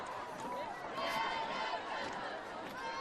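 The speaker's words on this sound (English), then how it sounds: "Listen to this crowd. It is an absolutely festive environment here." Festive high school football stadium crowd chatter from a Golden Valley versus West game, a dense steady murmur of many voices with scattered louder shouts, continuous throughout.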